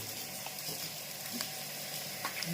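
Small pieces of edible gum crackle and sizzle steadily in hot ghee, puffing up, with occasional louder pops over a constant bubbling hiss, close up.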